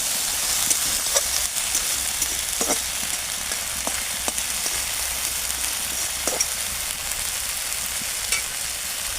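Vegetables with Malabar spinach stems sizzle steadily in a pan as ground mustard paste and spices are stirred in, a continuous bright frying hiss broken by occasional scraping stirs and small pops.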